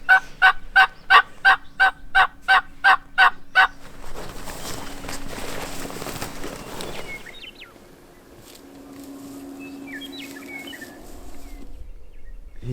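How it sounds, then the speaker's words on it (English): A wild turkey gobbler on Nebraska public land during a spring hunt gobbles in a quick run of about ten loud, evenly spaced pulses, followed by rustling outdoor noise and faint bird chirps. "The gobbler that was further away from us is kind of working down towards where that other guy's set up."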